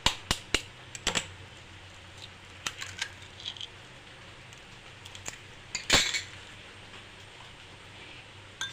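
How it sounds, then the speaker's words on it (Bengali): A fork or whisk beats an egg in a bowl, giving sharp, light clinks and taps at an irregular rhythm over a quiet background, close and fairly soft, with no speech. "ডিমটাকে আমি ফেটিয়ে নিচ্ছি।"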